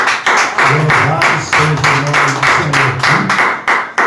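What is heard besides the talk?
congregation clapping hands, round of applause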